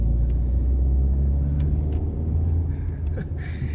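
A car's engine rumbles low and steady from inside the cabin while driving slowly around a housing estate, a continuous close drone with a few light clicks and creaks.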